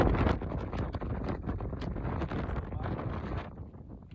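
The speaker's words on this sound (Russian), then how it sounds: "Очень сильный ветер." Strong wind at a beach on Madeira buffets the microphone in loud, gusty rumbles, with faint knocking and rustling mixed in.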